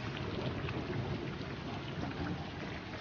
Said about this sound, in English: I hear God speaking in the thunder.